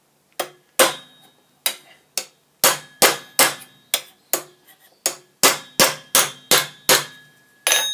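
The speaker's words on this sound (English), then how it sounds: "using the hammer in the position of the stake is acting like a little anvil" A peening hammer strikes steel knee armour on a stake, about fifteen sharp ringing metallic blows in an uneven but steady rhythm, close and loud with no voices.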